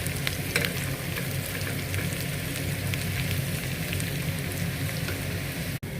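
Chopped onions and green chillies fry in hot oil, a dense steady sizzle like rain on a surface with faint pops, holding evenly throughout before a momentary dropout near the end.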